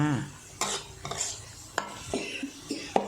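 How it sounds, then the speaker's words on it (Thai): Minced pork is stir-fried with roasted chili paste in a pan, giving a soft sizzle under a few distinct scraping and clinking strokes of a utensil against the metal, close and fairly quiet. "ผัดอีกนะคะ ผัดได้เรื่อยๆจ้า"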